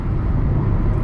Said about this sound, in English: You hear all the wind, you hear all the noise, you hear all the road wind.